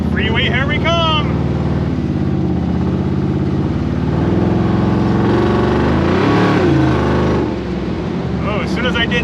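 A rat rod car with an LS engine swap accelerates onto the highway, its engine droning loud and continuous with rising revs, heard from inside over steady road noise.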